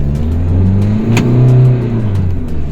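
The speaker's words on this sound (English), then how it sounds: "So we're in the Isuzu D-Max now, automatic. About to go for a spin." An automatic Isuzu D-Max pickup pulls away from a stop, its engine note rising steadily as it accelerates, heard close from inside the cab with no talking.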